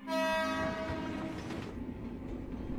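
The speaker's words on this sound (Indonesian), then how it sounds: "Tentu saja ada Kereta" A train blasts its horn in a sustained, loud chord over heavy rumbling rail noise, the horn fading after about a second as the rolling train continues, part of a trailer for the Indonesian thriller Sleep Call.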